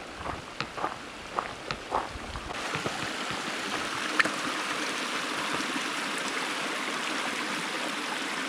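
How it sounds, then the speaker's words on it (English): A mountain creek at a trail crossing in the Golden Trout Wilderness near Soldier Lake, a steady soft rushing of water with a few light footsteps or taps early on, fairly distant and even throughout. "And here comes another creek crossing."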